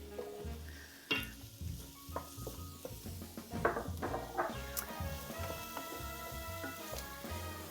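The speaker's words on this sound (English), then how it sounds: "So we'll saute this until the zucchini is soft" Sliced zucchini with hot red pepper flakes sizzles and fries steadily in a pan, with frequent stirring scrapes and light clatter of a utensil against the pan throughout.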